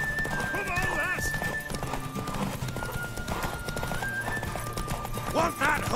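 Horse in The Witcher 3 with clip-clopping hooves and repeated neighs and whinnies over steady galloping movement, mixed with in-game dialogue and music.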